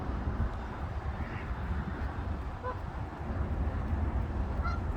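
Geese at a park give a few faint honks over a loud rumbling, wind-like outdoor background.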